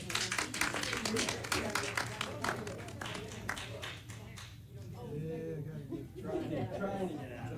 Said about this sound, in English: Let's give another round of applause for me